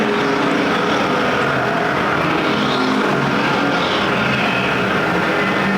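American Factory Stock cars race side by side on the Perris Auto Speedway dirt track, a dense, continuous engine roar that swells and fades slightly as the cars pass, loud throughout with no voices.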